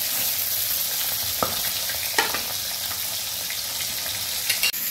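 Pieces of tilapia fish frying in hot oil, a steady close sizzle throughout with a few sharp crackles and pops.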